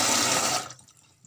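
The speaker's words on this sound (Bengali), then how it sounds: "মটরটাকে আমি একটু ধুয়ে নিচ্ছি।" Dried peas being rinsed in water in a home kitchen, a steady rushing wash of running water for just over half a second that then cuts off, leaving faint drips and splashes.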